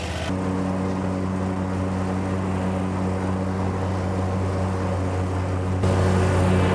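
A John Deere zero turn mower, a 970R, cutting through heavy grass, its engine a steady loud drone with strong low harmonics that shifts slightly near the end.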